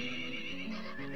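A baby horse in the video game Dwarf Fortress gives a short, soft whinny, a brief tonal neigh with a wavering pitch, heard alone at low volume.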